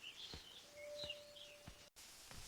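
Faint bird chirps and short calls come from trees in the morning, from a distance, scattered over a quiet, hissy outdoor background.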